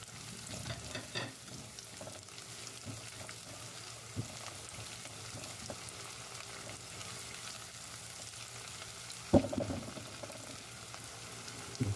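Chopped onions sizzle and fry in a pan, a faint, steady crackle with occasional soft stirring scrapes and one sharper knock near the end.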